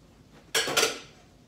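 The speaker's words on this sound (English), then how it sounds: "I'm going to use the grease from the ground beef to saute my vegetables" Vegetables dropped together into hot ground beef grease in a pan give a sudden loud sizzling burst that swells once more, then fades over about a second.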